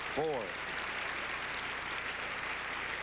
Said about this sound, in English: Appreciative applause by the sellout crowd here at Center Court